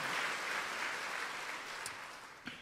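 A church congregation claps together, a dense, fairly quiet patter of many hands heard from a distance and fading slightly toward the end.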